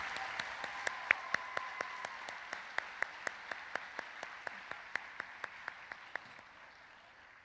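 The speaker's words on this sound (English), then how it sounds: "One more round of applause for that last trio." At a Veterans Day program, a single pair of hands claps in a slow, even rhythm, about twenty distinct claps over a faint roomy background hum that fades at the end.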